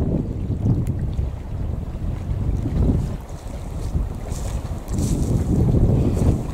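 A small boat out on a large lake in Sweden, with buffeting wind noise, low rumbling water and hull sounds that swell and ease in waves, and no talking.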